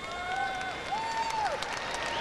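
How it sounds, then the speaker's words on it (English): A crowd at a dog show applauds and cheers in a sustained wash of clapping, heard from within the audience, with a few rising and falling whistle-like tones over it. "Listen to the crowd."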